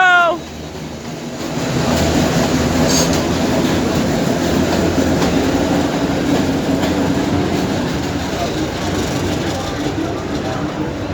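A train rolls past close by with a loud sustained rumble and rhythmic clickety-clack of wheels over the rails, faint squeal at the start, steady for several seconds.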